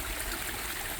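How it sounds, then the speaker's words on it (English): Water trickling down a homemade garden waterfall, a steady close splashing burble with no pauses and no voices. "This is my first waterfall that I built"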